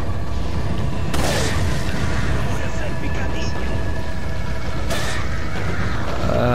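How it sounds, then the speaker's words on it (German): Two sharp explosions in Resident Evil 4 boom out several seconds apart amid a dense, noisy mix, with a voice talking over it. "Okay, dass das da explodiert, das wollte ich jetzt nicht"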